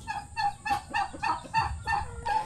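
A turkey on a backyard garden plot in the Philippines gives a rapid series of close, loud gobbling calls in about seven bursts, with faint scratching noise underneath.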